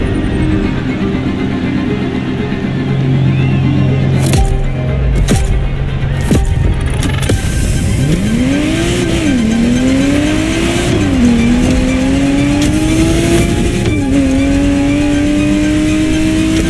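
A Ferrari Testarossa in The Crew Motorfest revs hard through several rising gear pulls, its engine note climbing, dropping at each shift and climbing again. Earlier, short sharp mechanical clanks sound over a steady low idle rumble.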